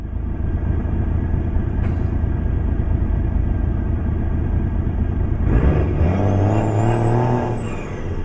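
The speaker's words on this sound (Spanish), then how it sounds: "Traemos un motor Cummins, L10 creo que es." A Western Star 4900EX truck with a Cummins L10 engine, in American Truck Simulator, rumbles loudly at a steady idle. A short air-brake hiss cuts in early, and later the engine note shifts and rises as it revs.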